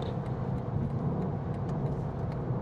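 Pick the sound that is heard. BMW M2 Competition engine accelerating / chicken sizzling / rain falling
BMW M2 Competition engine accelerating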